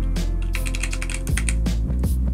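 Rapid keystrokes on a computer keyboard clatter steadily and close up, a dense run of clicks with brief pauses, with no voices over them.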